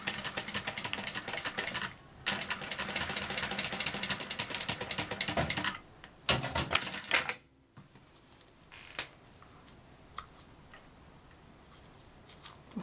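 Sewing machine stitching seams on a quilted zippered pouch, two bursts of rapid, close mechanical stitching with a brief pause between, then quieter handling clicks and taps as the sewing stops.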